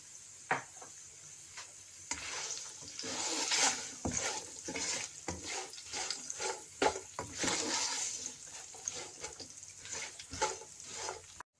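Almonds and raisins with a pinch of salt frying in a pan over a low flame, giving a steady soft sizzle broken by repeated clinks and scrapes of stirring, close and fairly quiet with no talk.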